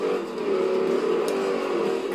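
A Shelby GT500 V8 car engine in the video game Forza Horizon 2 hums and revs in a steady, sustained drone, loud and close with slight rises and dips in pitch.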